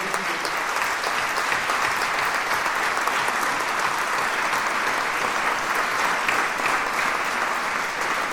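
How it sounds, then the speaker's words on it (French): Steady, full applause from an audience at a political meeting in Belfort, many hands clapping densely at an even, loud level from start to finish. "j'aimerais qu'on les applaudisse tous une dernière fois"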